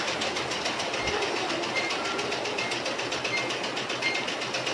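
A sewing machine stitches a pair of trousers with a fast, steady, close whirring clatter that runs without a break.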